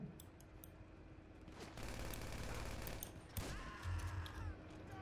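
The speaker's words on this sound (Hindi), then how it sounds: "शॉटगन तो शॉटगन ही है भाई" Shotgun blasts in the video game GTA V, heavy booming shots among bursts of gunfire against a busy game soundscape, fairly faint overall with a few sharper reports near the end.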